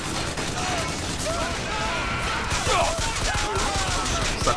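Rapid blind gunfire from a handgun in the shooter game Bioshock Infinite, a dense, continuous crackle of shots with scattered impacts, loud and busy throughout with a voice talking over parts of it.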